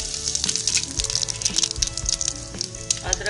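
Asafoetida and cumin seeds sizzling in hot oil in a kadhai, a steady close crackling fry with bright spatter throughout and no talk.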